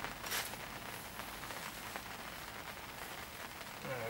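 Rain falls at a carp fishery as a steady, even hiss of drops across open water and ground, fairly faint and continuous with no talking.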